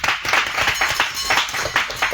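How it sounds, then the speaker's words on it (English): Classroom audience at an academy contest applauding the boys' team after a maths test round, a dense, fast patter of many hands clapping together, close and loud throughout. "Let's clap for them."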